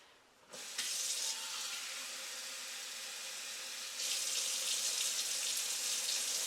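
Tap water runs steadily into a cup, starting abruptly after a brief quiet moment and swelling louder partway through as the flow changes, close and continuous with no talking.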